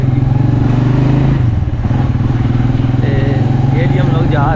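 A motorcycle due for servicing and tuning runs close by, its engine droning and revving steadily under loud, ongoing talk.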